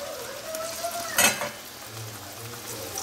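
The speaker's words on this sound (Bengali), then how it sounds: "দেখো এখন লুচি ভাজা হবে" Luchi, puffed fried bread, frying in hot oil in a kadai: a continuous bubbling sizzle with a sharp spattering burst partway through, then a quieter steady fizz.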